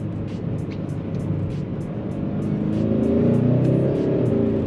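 A Hyundai Sonata N-Line sedan accelerates at about half throttle, a steady low engine drone that swells and rises in pitch midway, heard from inside the cabin with no talk.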